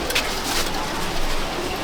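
Pigeons coo inside a champion racing-pigeon loft in Jangipur, a soft, steady murmur of calls blended into constant hiss and rustle, fairly close and without speech.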